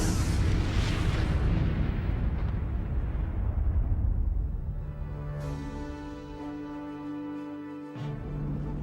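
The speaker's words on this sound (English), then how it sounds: "At the command throttle up, the fuel ignites, and the main rocket explodes." A space shuttle's main rocket explodes in a loud, broad roaring blast that slowly fades into a lower rumble, with a steady tonal hum emerging beneath it near the end and no talking.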